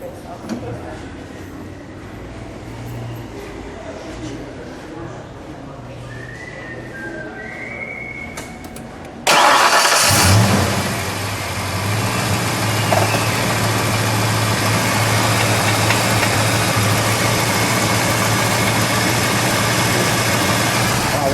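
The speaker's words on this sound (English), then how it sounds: "You want to fire it up? Please. We'll let it idle and then we'll give it 1 rev." A 1992 Ford Mustang's 5.0-liter engine fires up abruptly and settles into a steady, loud idle, preceded by quiet ambient noise with a faint whistle.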